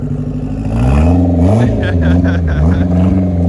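An all-wheel drive car spins donuts on icy snow, its engine revving up and wavering close by in a loud, sustained run, with a voice talking over it.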